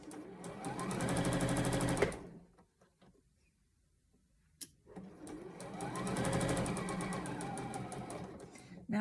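A sewing machine stitches fabric in two steady runs of fast, rhythmic mechanical whirring. A short quiet pause with a single click comes between the runs.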